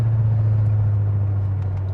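A Ford Sierra RS Cosworth engine drones low and steady under acceleration from inside the car, a close, continuous rumble with no talking.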